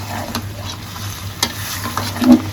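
Chicken liver frying in a pan while being stirred, a loud close sizzle over a low hum, punctuated by a few quick scraping strokes of a spatula, no voices.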